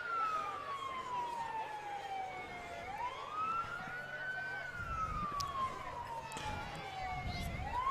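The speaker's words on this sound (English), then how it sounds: "With the sirens. They're right there." Emergency vehicle sirens at the Toronto Christmas Parade, a wailing tone sweeping slowly up and down, moderately distant over crowd murmur and street noise.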